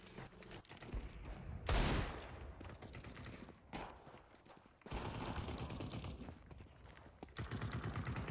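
Rapid bursts of gunfire crackle in repeated volleys with brief pauses, sharp and dense, like a shooting game's weapons firing.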